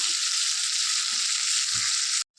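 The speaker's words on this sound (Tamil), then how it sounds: "மீடியம் ஃப்ளேமில் வச்சு வதக்கிடுவோம் இது ஓரளவுக்கு வதங்கட்டும்" Capsicum sautés in a pan over a medium flame, giving a steady, bright sizzle with a few soft stirring knocks underneath. It stays close and constant, then cuts off abruptly at the end.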